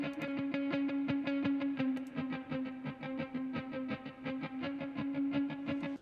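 Electric guitar with its delay set to mimic a chorus, a steady sequence of rapid picked notes over a sustained droning tone with a shimmering, echoing wash and a distorted edge.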